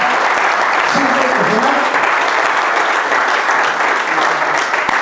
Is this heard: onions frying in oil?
no